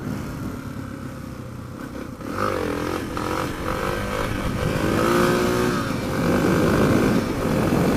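A motorcycle under way, its engine revving up, dropping on a gear change, then climbing again in a rising whine, loud and close with wind rumble and no voices.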